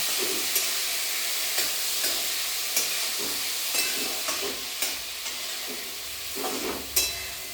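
Spices sizzle steadily in hot oil for a tomato curry while a utensil clinks and scrapes the pan at regular intervals, close by and without speech.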